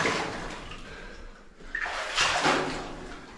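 Wading knee-deep through murky floodwater inside a disused gold mine tunnel, Talisman Level 6 in New Zealand's Karangahake Gorge; close sloshing and splashing surges build and fade in irregular bursts, echoing faintly in the enclosed passage.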